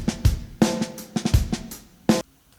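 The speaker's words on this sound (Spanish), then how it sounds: "Batería sin procesos." A raw, dry, unprocessed drum track from a song, with punchy kick hits, snare cracks and cymbal splashes, played in a loose groove with no effects.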